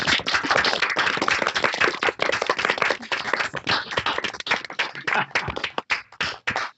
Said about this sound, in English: Should we give him a round of applause to start off with